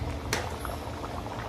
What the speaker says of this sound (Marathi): छोले भाजीला आता चांगली उकळी आलेली आहे